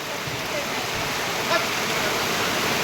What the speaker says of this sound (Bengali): রাস্তার উপর দিয়ে এইভাবে পানি যাইতেছে আর এটা একটা নালা